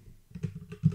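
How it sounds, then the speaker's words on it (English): A password typed at a terminal login on a computer keyboard: a short, close burst of several soft keystrokes in a quiet room. "type in the password"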